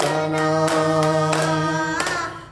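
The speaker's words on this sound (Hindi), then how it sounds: "सारे मिलकर ताली बजाओ, सारे मिलकर ताली" A church congregation claps along to a Hindi/Punjabi worship hymn, a few sharp rhythmic claps spaced through steady sustained singing and music that dominate the sound.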